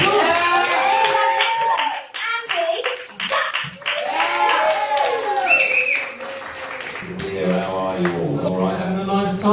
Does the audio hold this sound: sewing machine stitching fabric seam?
no